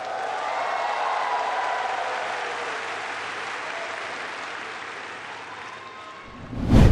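Sustained applause from a large audience at PM Modi's speech in New York, loud and steady throughout, ending in a louder burst of clapping and crowd noise.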